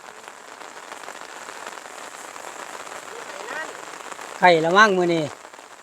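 Steady rain falls all day outdoors, a dense, even patter that runs unbroken throughout, with a voice speaking briefly near the end.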